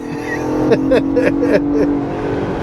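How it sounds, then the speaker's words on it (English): A 2023 Ford Bronco Raptor's engine revs up hard under acceleration, its exhaust note climbing in several surging pulses, close and loud, with a steady interior drone beneath. "I don't know if you can hear the exhaust, if it's being picked up on camera"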